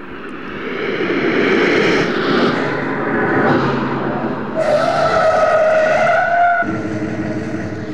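Recorded car traffic from a sound installation sweeps past, with loud engine roars rising and falling as vehicles pass close by, and a whining tone near the end. No voices.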